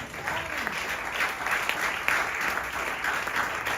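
A church congregation claps together during a French-language sermon, a dense steady roar of applause filling the hall, mixed with faint cheers.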